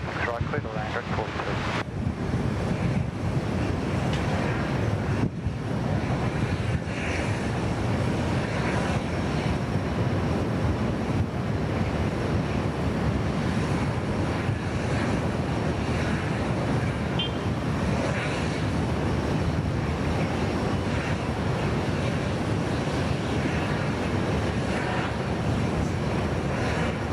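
A Singapore Airlines A380 airliner landing at Sydney Airport makes a continuous, distant broadband roar, blended with gusty wind buffeting the microphone, as voices talk over it.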